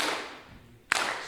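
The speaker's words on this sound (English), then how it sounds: "So give me a little clap like this." Hand clapping along to an old song, with one sharp, loud clap standing out near the end against a soft, hissy background.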